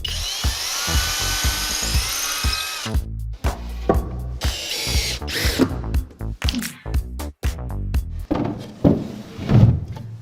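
A power drill whirs into a wall in the first few seconds, followed by a series of thuds, knocks and clattering handling noises close by.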